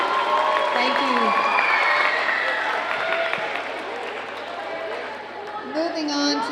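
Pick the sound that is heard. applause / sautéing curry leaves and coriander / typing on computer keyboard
applause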